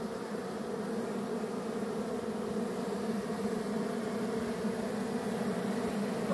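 A honeybee swarm in a rock-cavity hive packed with honeycomb, giving a steady, dense, close buzz that holds evenly throughout with no talk.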